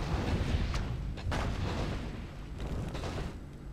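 A town under attack in WarCraft 3, with dense rumbling battle noise and repeated booming impacts that swell and fade over a few seconds, no voices.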